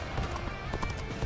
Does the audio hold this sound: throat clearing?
no